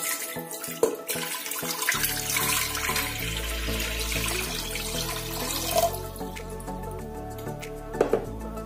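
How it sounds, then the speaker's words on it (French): Water from a tap pours steadily into a cooking pot for boiling couscous tapioca, a continuous loud rushing fill with splashy clatter at the start and a few knocks near the end. "Je vais donc mettre l'eau à bouillir dans une marmite"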